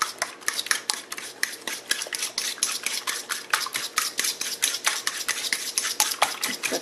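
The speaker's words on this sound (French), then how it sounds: "On fouette tout ça ensemble." Granola ingredients whisked together in a bowl for honey granola, a steady run of quick scraping, clinking strokes close up, repeating rhythmically without pause.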